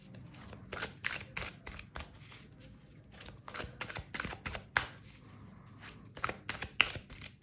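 A tarot card deck being shuffled by hand, with rapid, close papery riffles and taps in an uneven rhythm throughout, fairly quiet, no talking.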